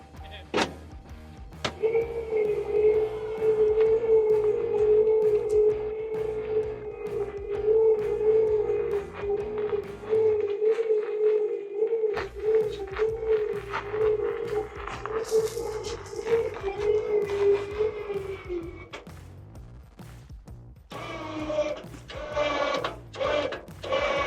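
PopUp winch straining to pull a skid steer up a ramp: a steady electric motor whine holds for about eighteen seconds, broken by clicks and knocks, then shifts to a higher, harsher tone.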